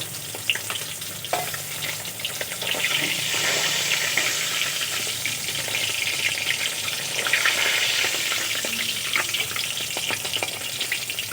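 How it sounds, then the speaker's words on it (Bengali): Silver carp fish pieces frying in oil make a continuous, dense sizzle up close, with occasional spatters and faint utensil knocks throughout and no voices. "বাকি মাছগুলো আমি একইভাবে ভেজে নেব।"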